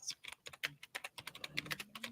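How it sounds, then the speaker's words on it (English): Fast, irregular clicking of keys on a computer keyboard, close and fairly quiet, with bursts of strokes and brief pauses across about two seconds, alone without talk. "She's still typing."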